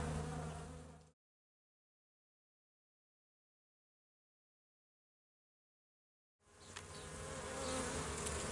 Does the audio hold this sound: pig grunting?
no